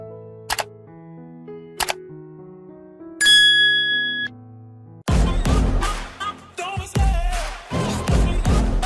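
A notification bell dings once with a bright, ringing chime that lingers for about a second. Short tonal plinks come before it, and loud music starts soon after.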